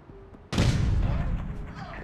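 A grenade goes off in the shooter game APB Reloaded, a sharp, loud explosive crack followed by a rolling, decaying rumble with faint debris and game noise trailing behind it.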